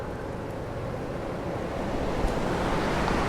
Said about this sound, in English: Boy, it is windy.